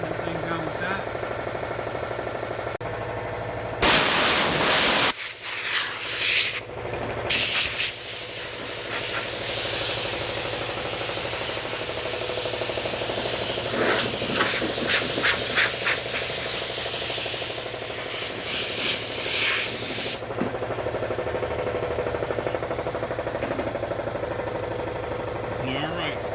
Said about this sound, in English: We'll just finish sanding the whole thing down with that.